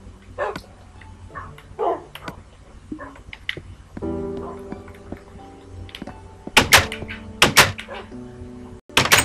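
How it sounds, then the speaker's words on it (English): Tamed dogs bark in Minecraft on Xbox 360, several sharp, loud barks in scattered bursts mixed with game thunks and clicks. "I'll just bring some of my dogs with me for hunting"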